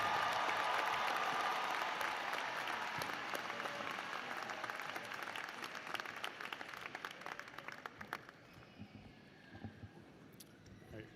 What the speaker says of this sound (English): One more round of applause for JR and his inspiring story of resilience.